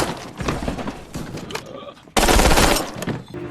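Rapid bursts of machine gun fire from North Korean soldiers in the war film 71: Into the Fire, loud and dense, with a sharp louder volley partway through and continuing to the end.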